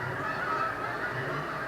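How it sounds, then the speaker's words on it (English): Geese honk in a steady, overlapping chorus, heard faintly from a distance outdoors without pause or talk. "you hear those geese?"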